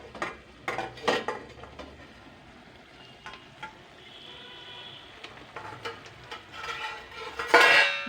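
A plate being slid carefully off a cooking pot of bhola fish in mustard sauce, heard as scattered close clinks and metallic scrapes that end in a louder rattling scrape.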